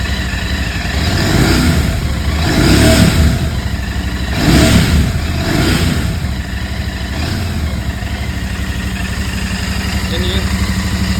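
A Royal Enfield GT650 motorcycle engine idles close by and is revved in several loud swells, each rising and falling back to a steady idle.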